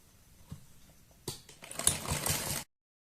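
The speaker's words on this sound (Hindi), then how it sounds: "सिलाई हम इसके ऊपर लगा देंगे।" A sewing machine stitching a fabric strip onto a baby frock: a few soft clicks, then a loud, close run of rapid stitching for about a second and a half that stops abruptly.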